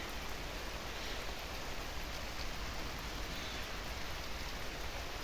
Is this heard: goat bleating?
no